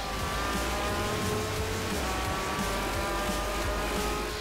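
Race car engine in Forza Motorsport 4 drones steadily through a lap, loud and continuous with faint tire noise as the car brakes into a corner; no talking.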